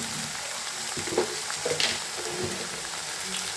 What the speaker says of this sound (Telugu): సొరకాయ ముక్కలు టమాటా ముక్కలు బాగా నిమ్మొస్తుంది వస్తే బాగా వేగాలి ఇట్లా కలగొస్తూ ఉంటే వేగుతుంది